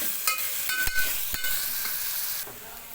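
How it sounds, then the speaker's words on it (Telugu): Onions frying in a pan while being stirred back and forth until golden, a steady bright sizzle broken by several scraping stirs and clicks from the spoon, close and without talk. "అటు ఇటు కలుపుతూ మనకు కొంచెం గోల్డెన్ కలర్ వచ్చే వరకు ఉల్లిగడ్డను అయితే వేయించుకోవాలి"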